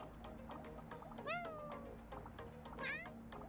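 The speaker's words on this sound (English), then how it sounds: "she meows every time you jump" In a video game, a cat meows each time the character jumps: two short rising meows over game music and faint talk.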